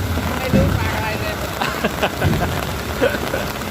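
Heavy rain pours steadily during a storm at a pond-digging site, a dense loud wash of noise throughout, with voices and brief knocks and bumps under it.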